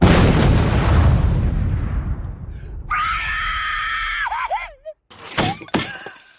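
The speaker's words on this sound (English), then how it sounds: "I just heard this blood-curdling scream go out" A woman in a horror film lets out a high, sustained scream after banging her knee into a wall. It rises out of a loud noisy crash, breaks off, then returns in sharp, strained bursts with no talking.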